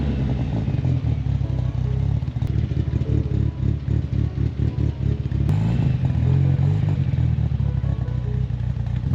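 A deep, rumbling Nissan S15 engine idles close by while warming up, with a throbbing exhaust burble and occasional clattering, steady and loud throughout.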